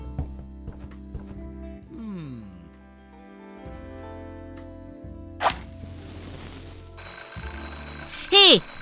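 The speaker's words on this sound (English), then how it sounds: "I'm, just testing the smoke detector." In the point-and-click adventure game The Journey Down, Chapter Two, a smoke detector is set off: a shrill, piercing electronic alarm tone kicks in near the end, rising over a background of game music and tones.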